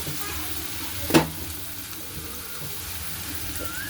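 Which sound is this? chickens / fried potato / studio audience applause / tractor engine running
fried potato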